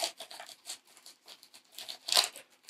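Cardboard and plastic packaging on a Batman Who Laughs figure box is cut and torn open in a quick run of close crinkling, snipping rips, ending in one sharper tear.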